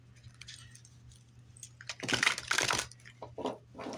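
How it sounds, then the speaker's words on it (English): Soft papery rustles followed by a burst of dense riffling and brisk tarot card shuffling, close up, with short quieter flicks afterward. "shuffle 4 times and cut the deck"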